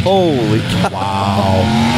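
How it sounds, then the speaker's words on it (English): Race car engines drone on in a long heat, a steady sustained hum running underneath as a man exclaims over it in amazement. "All those motors, they sound like they've been running for 5 minutes."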